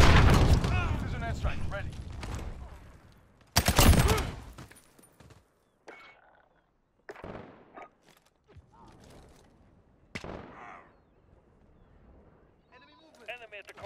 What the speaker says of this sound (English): This is an airstrike, ready.